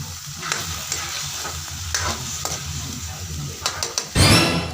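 Food fries in a pan as a utensil stirs and mixes it, with repeated scraping taps over a continuous close sizzle and a louder burst of sizzling near the end.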